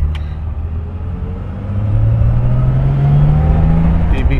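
A 1966 Aston Martin DB6 coupe warming up on a road drive, its engine a steady, moderately loud rumble from inside the car that rises smoothly in pitch as it accelerates.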